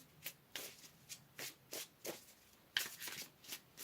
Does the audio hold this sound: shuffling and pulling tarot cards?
yes